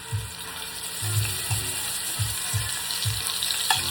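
Beef chuck searing in a hot pot for a Southern pot roast, a steady loud hiss with a low rhythmic bubbling pulse underneath.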